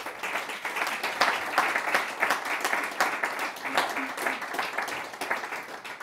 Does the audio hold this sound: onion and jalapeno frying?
no